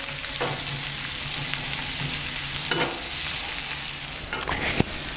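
Butter and onions sizzle evenly on a cast-iron griddle plate, with a few light scrapes of stirring and a small knock near the end.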